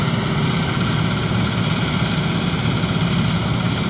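Niva SK-5 combine harvester engine running steadily on a frosty day during a corn harvest, a loud continuous low rumble with mechanical whine, close and unbroken, no voices.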